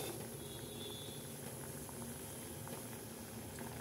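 Okra curry for a desi ladies finger dish simmers slowly in a pot, giving a steady, soft bubbling hiss at low level with no gaps and no voices.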